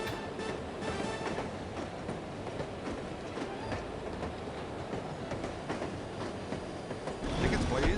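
Train rolling on rails in the video game No One Lives Forever: a steady rumbling clatter of wheels over track with rhythmic clicks and faint squeals, swelling louder at the end.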